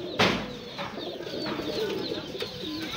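Several pigeons coo softly in low, rolling murmurs, overlapping nearby with a sharp flutter or knock early on.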